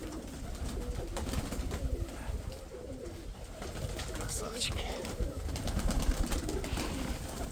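Pigeons coo softly and repeatedly in a loft, low throaty calls layered over one another against steady background noise.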